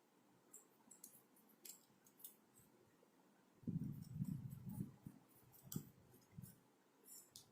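Scissors trim the edges of a cardboard cut-out for a kalash door sticker, a quiet series of close snips and clicks with a brief burst of rustling handling in the middle.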